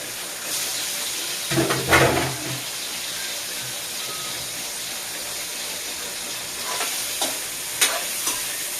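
Chicken pieces frying in a pan for a home-cooked lunch, giving a steady close sizzle with louder bursts of stirring and spattering near the start and again toward the end, no voices.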